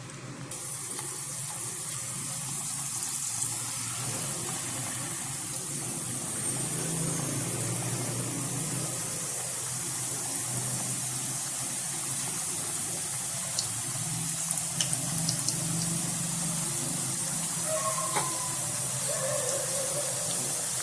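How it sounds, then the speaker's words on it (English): Steady hissing sizzle of papdi frying in hot oil in a wok, continuous and even throughout, with a few faint clinks near the end. "Now let's fry our papadis."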